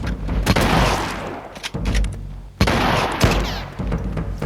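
Shotgun blasts in the video game Dreams (The Rest Of Us), with loud repeated booming shots and dense gunfire-like bursts at close range, separated by brief lulls.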